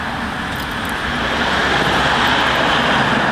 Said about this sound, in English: so I thought that was my bus